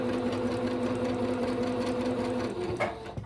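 A sewing machine runs steadily, stitching a T-shirt being repurposed into a zippered pillow sham; the motor hums continuously and close, with a brief shift near the end.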